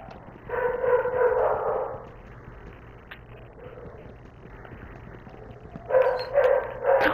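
Several puppies bark and yip in bursts, a cluster at the start and another near the end, with quieter whimpering between; no talk heard during the barking.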